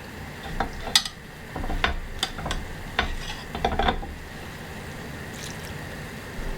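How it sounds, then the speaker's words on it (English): A spoon stirring diced tomatoes and shrimp stock in a pan, with scattered light scraping and clinking against the pan over a low simmering background, quiet and close. "you're just going to kind of mix that all around in there"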